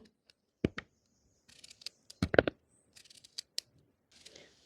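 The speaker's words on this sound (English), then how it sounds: "I'm going to start cutting up the cucumbers now" A knife cuts cucumbers with a handful of sharp, separate chopping knocks on a board, spaced irregularly and fairly close, among quiet kitchen handling noises.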